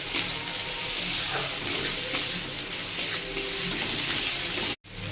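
Chopped tomato sizzles and fries in a hot pan for an egg tadka, a close, constant crackling hiss broken by light stirring knocks and a brief dropout near the end.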